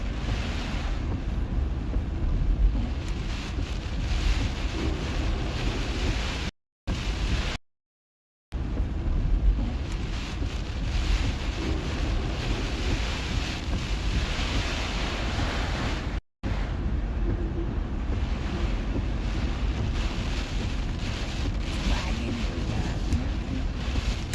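Gusty tropical storm wind roaring over a beach near high tide, with steady crashing surf beneath, loud and continuous, broken by a couple of brief dropouts.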